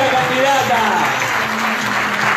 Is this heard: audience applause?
yes